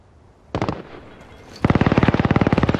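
Submachine gun fire in a video game, a short burst of about five rapid shots followed by a longer sustained stream of loud, evenly spaced automatic rounds, close and dry with no talk over it.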